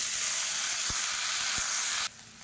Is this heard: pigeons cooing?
no